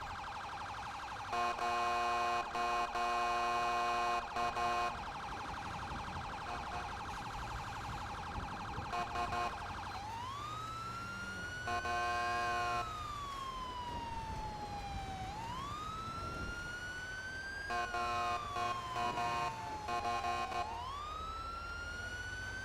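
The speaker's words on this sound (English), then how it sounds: "Because it's my same police siren, so I'd love to update that." A police siren from Grand Theft Auto roleplay plays loud and close, switching between a rapid electronic yelp and long rising and falling wails with no break.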